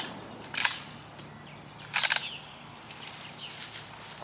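Two distant, fairly faint cracks from a .300 Win Mag rifle firing Core-Lok bullets outdoors, about a second and a half apart, over steady background hiss with a few bird calls.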